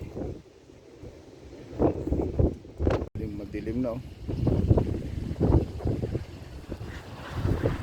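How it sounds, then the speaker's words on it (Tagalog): Gusty wind buffets an outdoor microphone, rumbling low and steady while a person speaks over it. "Kaso mahangin guys dito sa labas. Pangit yung video natin, maingay."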